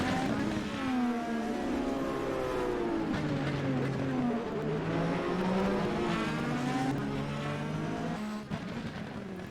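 Indy race car engines droning and rising in pitch during a race at the Grand Prix of St. Petersburg, steady and loud with shifting harmonic sweeps as cars pass, with faint voices underneath.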